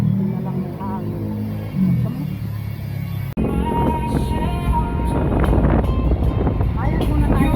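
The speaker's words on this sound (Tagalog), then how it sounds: "Lakas ng hangin." Strong wind roars and buffets the microphone in a loud, rushing blast outside a hospital, with people talking underneath.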